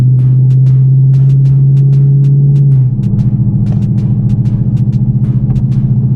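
A 2024 Ford Mustang GT cruises on a highway, its loud, steady low drone heard from inside the cabin; the engine note shifts partway through, and repeated short clicks run over it.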